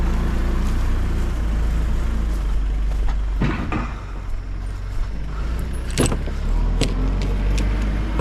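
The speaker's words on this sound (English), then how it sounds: "Four-wheeler." A four-wheeler ATV engine runs close by at a steady low rumble while deer stands and feeders are moved, with a few sharp clanks and knocks over the constant idle.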